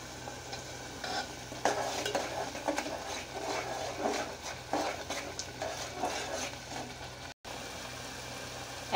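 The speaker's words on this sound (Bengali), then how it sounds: "মশলাগুলো ভালোভাবে কষিয়ে নিতে হবে যেন কোনো কাঁচা স্মেল না থাকে" Spices with a chopped bay leaf stir-fried in a pan for hotel-style chicken soup, soft continuous sizzling with repeated scraping strokes of a spatula, fairly quiet and close, no one speaking.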